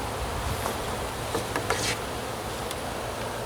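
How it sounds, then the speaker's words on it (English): Honey bees buzz steadily on frames in the top box of a hive during an early March inspection, a close, continuous droning hum with a few brief brighter flicks of wings passing near. "We've got bees on all frames up here in the top box."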